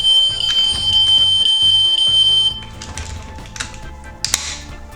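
A toy Mercedes-Maybach S600 model car sounds its first alarm signal: a loud, steady high-pitched electronic tone holds for about two and a half seconds over a low rhythmic pattern, then cuts off, leaving quieter clicks and a brief burst.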